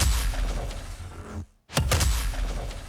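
Punchy trailer hit from the Trailer Xpressions TX4 sample library: dense, loud broadband impact texture that cuts to brief silence, then slams back in with a sharp renewed hit and sustained booming tail.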